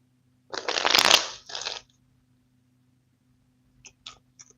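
Angel cards are riffled and shuffled in a close, brisk burst of papery flutter lasting about a second, followed by a shorter second riffle and then a few faint taps as the deck settles.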